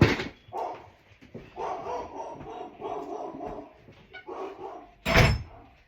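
Indoor rescue dog barking repeatedly behind a door in a steady run of moderate barks, ending with a sudden loud thump like the door being shut.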